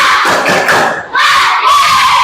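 Schoolchildren in a classroom belt out a loud, rhythmic spirit clap at morning, with fast rounds of clapping and shouting that pause briefly once before surging again at full volume.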